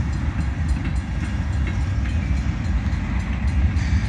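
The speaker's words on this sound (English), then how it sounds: "there's a potash core car actually. So it will come into the screen right about now." A long freight train with potash covered hopper cars rolls past close by in a Winnipeg neighbourhood, a steady loud low rumble with faint rhythmic wheel clatter throughout, no voices.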